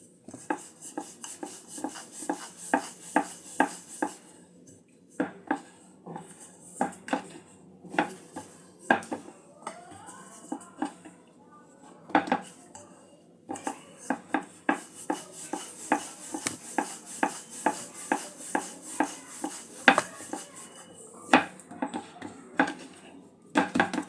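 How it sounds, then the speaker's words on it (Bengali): A rolling pin presses pizza dough into a thick flatbread on a floured board, giving a run of close, rhythmic knocks and rubbing strokes in several bursts with short pauses, no voice over it. "একটু মোটা ধরনের রুটির মতন বেলে নেব।"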